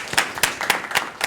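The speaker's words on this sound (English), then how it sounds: "applause." Live studio audience clapping at the end of a televised talk show discussion, a few sparse, moderately faint hand claps in an uneven rhythm.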